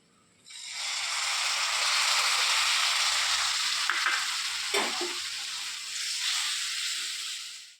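Steady loud sizzling and frying as half a cup of vinegar hits hot oil and spicy bird's eye chili (kanthari) pickle in a pan, with brief stirring scrapes, sustained for several seconds with no voices.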